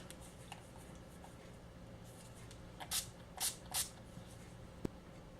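Three quick, soft hisses of a spray bottle in a quiet room, followed by a small click.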